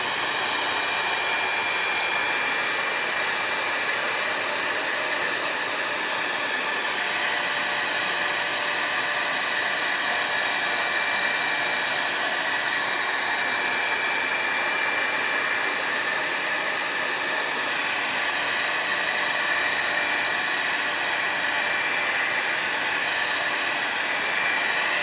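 A hair dryer blows steadily and close over wet watercolor paint, a continuous whooshing roar with a faint high whine, unbroken for the whole stretch.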